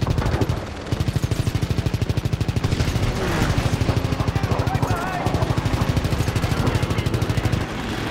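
Rapid bursts of machine-gun fire aimed at enemy planes in Call of Duty WWII, a loud, steady rattling stream that runs almost the whole time with a short break near the start, plus a voice in the background.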